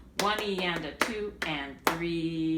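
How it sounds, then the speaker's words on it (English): Hands clap a rhythm of four sharp, close claps spaced unevenly across a short measure, while a voice counts the beats aloud over them. "So if we were to clap this measure"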